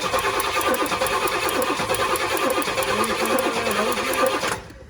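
A Pontiac GTO engine cranks steadily with a rapid, even starter rhythm for several seconds without catching, then cuts off abruptly near the end.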